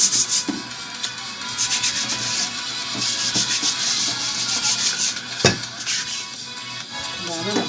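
Sandpaper rubs against a surface in quick, uneven back-and-forth strokes, close and fairly loud, with a sharp knock partway through.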